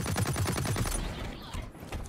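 Rapid bursts from a light machine gun in the Blacklight: Retribution shooter game on PS4, a loud fast rattling string of shots that stops abruptly, followed by a quieter tail.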